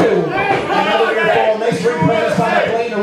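A wrestling crowd in Hollywood roars steadily during a Lucha Libre-style match, a dense wash of cheering voices with a commentator talking over it.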